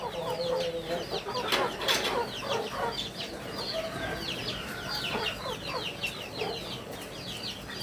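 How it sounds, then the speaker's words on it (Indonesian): Roosters and hens kept on a small home farm cluck and chatter busily close by, with overlapping calls and a rooster's crow over a steady hiss of rain. "Nah, ini ada ayam jantan dan juga ayam betina ya."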